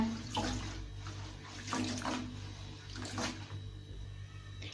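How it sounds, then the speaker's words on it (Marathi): Bathua greens rinsed by hand in a vessel of water, giving repeated splashing swishes in a loose rhythm, fairly quiet and close. "पाण्यामध्ये अशी स्वच्छ धुवून घ्या."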